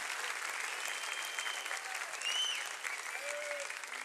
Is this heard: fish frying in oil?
no